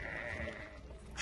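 Merino sheep bleat at the Sokuluk livestock market, one drawn-out call standing out over steady crowd and yard noise, with a brief sharper sound near the end.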